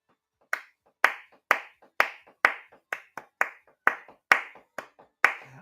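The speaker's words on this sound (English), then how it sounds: "The crowd are loving this." A crowd at the Luxembourg Song Contest claps along to a song, eleven sharp, evenly spaced claps ringing out clearly with no talk over them.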